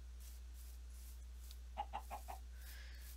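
A few short chicken clucks from a Minecraft chicken, faint and spaced in a quick burst of about four, over a steady low hum with no talk.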